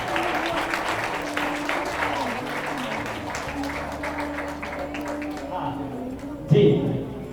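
An audience at a convocation ceremony for a Prakrit and Jain studies course applauds steadily for several seconds, a dense continuous clapping under a speaking voice, ending with a brief louder burst.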